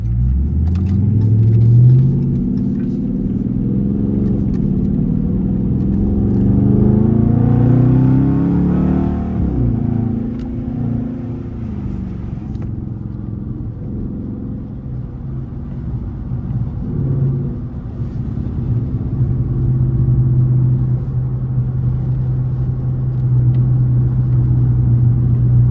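A Dodge Charger R/T driving in track mode gives a loud, deep engine rumble, heard from inside the car. It swells as the engine revs up, then settles into a steady low drone.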